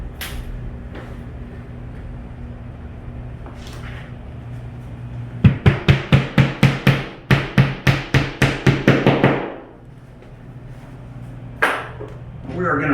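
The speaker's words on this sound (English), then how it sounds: "So what we're going to do is we're going to drive our first anchor." A wall anchor for a towel bar mount is hammered into the wall with about fifteen sharp, loud strikes in a fast, steady run that quickens toward the end, set against a low background hum.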